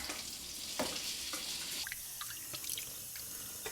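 Water from a tap splashes steadily over a patina-treated metal piece being rinsed, with soft drips and scattered clinks, quiet and close.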